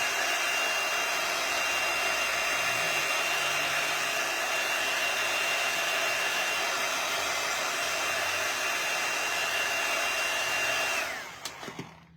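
Hair dryer blowing steadily on Halloween craft pieces, a loud constant whir that runs unbroken for about eleven seconds before shutting off and spinning down.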